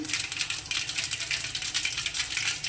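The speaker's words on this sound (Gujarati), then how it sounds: "રાઈ આપણે ફૂટવા દેવાની છે." Mustard seeds spluttering in hot tempering oil, a dense, rapid crackle and popping heard close up, steady throughout with no voices.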